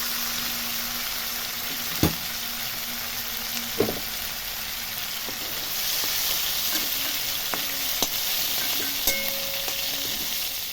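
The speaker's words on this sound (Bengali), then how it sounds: "চিংড়িটা কিন্তু আমি বেশি লাল লাল করে ভাজবো না, হালকা নরম থাকা অবস্থাতেই তুলে নেব।" Prawns fry in a wok with a constant bright sizzle, nearby and fairly loud, with a few sharp knocks and scrapes of a spatula and no talking.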